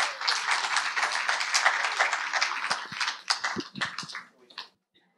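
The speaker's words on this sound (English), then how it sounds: "Nice to have the applause before I say anything" An audience applauds to welcome a speaker at a talk on sexuality and inclusion, a steady crowd of clapping that thins into a few scattered claps and dies away near the end.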